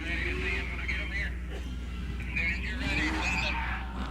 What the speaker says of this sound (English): Got the drivers down there warming up their tires